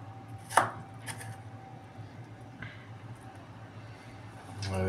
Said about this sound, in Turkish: Çoban salatası biraz daha iri doğranır.